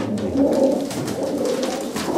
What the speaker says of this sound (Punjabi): ਕੁੱਤਿਆਣੀ ਵਾਲਾ ਕਬੂਤਰ ਤੁਸੀਂ ਦੇਖ ਹੀ ਲਿਆ